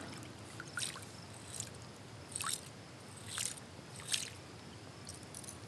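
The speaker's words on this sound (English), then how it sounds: "Yeah, it's got a nice little sputter to it" A homemade topwater fishing lure built from fan blades, with a bladed rear treble hook, sputters across open water in several short splashy bursts over a steady outdoor hiss, fairly faint and fairly close.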